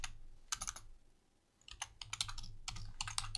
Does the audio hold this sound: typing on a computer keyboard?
yes